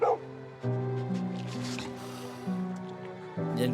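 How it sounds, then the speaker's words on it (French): A rescue dog from an animated French-dubbed series barks a few times, loud and close, with steady tonal background music running underneath. "chien de sauvetage"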